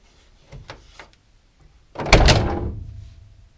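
A classic Volkswagen Beetle door, fitted with a new rubber buffer stop, swings shut and latches with one loud metallic clunk that rings briefly, preceded by a few faint clicks from the lock.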